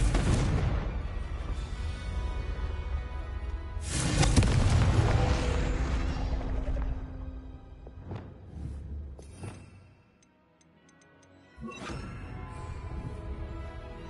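Booming blasts from the Confringo curse in Hogwarts Legacy: a heavy explosion opens, a second bigger burst follows, then scattered crackling impacts and a lull before another rumbling blast near the end.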